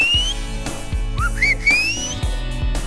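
A person whistles a short series of rising and sliding notes in the style of a whistled language, clear and close, over a steady background hum with periodic thumps.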